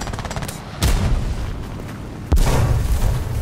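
Bombs exploding in War Thunder, a ground realistic battle, give two sudden deep booms about 1.5 seconds apart, each leaving a rumbling tail under low steady background noise.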